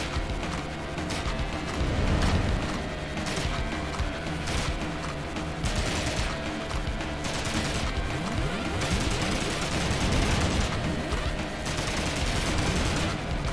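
Gunfire in the video game Horace, a dense, steady fusillade of shots with clattering hoof-like beats running the whole time at constant loudness, with no talking.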